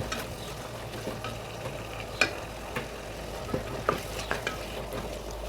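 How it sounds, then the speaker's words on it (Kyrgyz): Onion and garlic fry in a small frying pan after meat has been browned, giving a steady, close sizzle with scattered scraping and tapping from stirring throughout. "Эт кууруп бүткөндөн кийин пиязды, чеснокду кууруйбуз."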